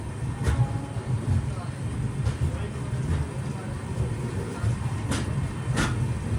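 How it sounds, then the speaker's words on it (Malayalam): Ernakulam–Bengaluru Express sleeper train running after leaving Palakkad, a constant low rumble and rattle of the carriage with a few faint sharp clanks, heard from inside and moderately loud. "7:41 പാലക്കാട് നിന്ന് ട്രെയിൻ എടുത്തു"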